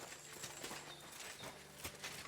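Horse hooves clip-clopping in Kingdom Come: Deliverance II, a quiet, steady walking rhythm of hoof strikes at low volume.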